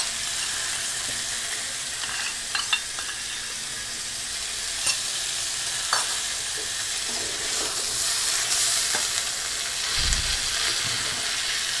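Spices and potatoes sizzle steadily in hot oil for a tilapia curry cooked without onion or garlic, a constant hiss with occasional scraping stirs and clinks of the utensil, and a brief low thump near the end.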